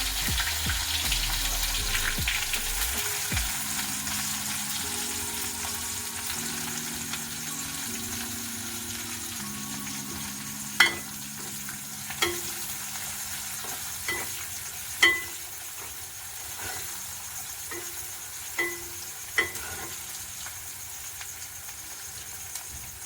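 Small shallots frying in oil for a dried-fish thokku, with a steady low sizzle and stirring throughout, broken by several sharp isolated clicks and pops in the second half; no speech.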